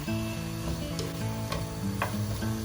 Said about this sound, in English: Now you may add in the curry leaves and green chillies, and add the 2 chopped tomatoes. Saute these for about 6 to 8 minutes